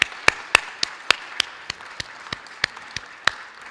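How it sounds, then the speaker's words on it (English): A panel receives applause from the audience: sparse, individual claps ring out in a fairly regular rhythm, a few hands at a time, clear and close, with no voices over them. "I'd like the audience to give a big round of applause for our panel."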